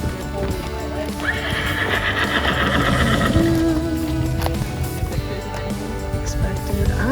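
A horse gives a loud, close, drawn-out whinny that rises and then falls. Hoof clip-clops and muffled voices sound around it.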